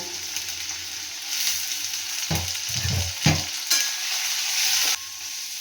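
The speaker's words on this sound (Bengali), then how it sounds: "দেখো তার জন্য আমি আগে পেঁয়াজটাকে ভেজে নিচ্ছি। পেঁয়াজ আর টমেটো আমি একসাথেই ভেজে নেব।" Onions and tomatoes frying together in a pan for aloo dum, a steady close sizzle with intermittent stirring scrapes and a few louder clatters, no talking.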